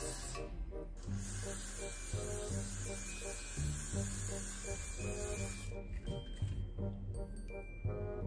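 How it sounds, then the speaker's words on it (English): Hair mousse sprayed from a can onto a wig, a steady hiss from about one to six seconds that fades toward the end, under music. "I'm talking about spray the mousse."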